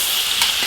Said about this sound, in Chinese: 生姜、大蒜、泡椒炒香